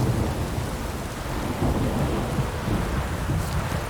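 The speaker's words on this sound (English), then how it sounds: "A storm, damn it." Thunderstorm in The Witcher 3: Wild Hunt, dense steady rain hissing on surfaces with a low rolling rumble of thunder underneath, loud and continuous throughout with no voices.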